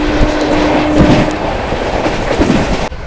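A Patna–New Delhi Amrit Bharat Express roars past at high speed at night, a loud, continuous rumble with rhythmic wheel clatter over the rail joints, close at hand, and the noise drops abruptly near the end.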